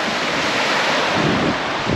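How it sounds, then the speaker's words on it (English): Strong wind buffets the microphone at a remote seashore, with a steady roar of surf and rushing air filling the whole stretch; loud and continuous, with no voices. "I'm not sure how well you're gonna hear because of this wind"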